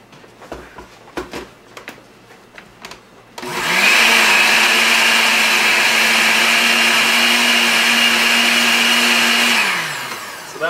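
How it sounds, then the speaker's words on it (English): A 10-speed Osterizer kitchen blender kicks on after some light clatter, whirring loudly and steadily at close range for several seconds before spinning down. "Now we're going to blend it. Oysterizer."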